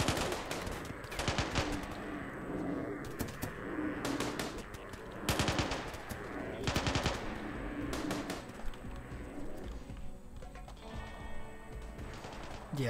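Automated turrets firing in the Rimworld video game, rapid bursts of gunfire coming in repeated volleys with short gaps, moderately loud, without talk.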